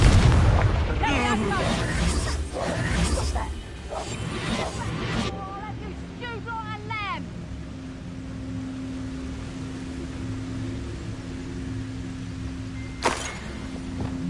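A Confringo fire spell in Hogwarts Legacy bursts with heavy, rumbling explosions and crackling impacts at the start, then fades into a softer game ambience with chirping effects and a final brief thump, while a voice speaks at times.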